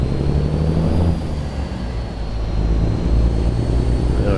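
A heavy truck engine in American Truck Simulator drones loudly and steadily, its low rumble easing briefly midway before building again as the driver works through the gears.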